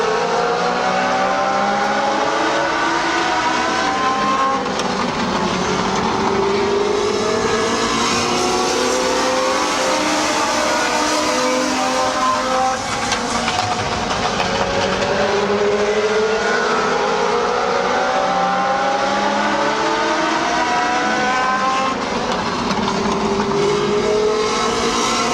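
Race cars roar around the speedway track at the Midvale Speedway fall classic, a continuous loud blend of engines rising and falling in pitch as they pass and accelerate, with no voices.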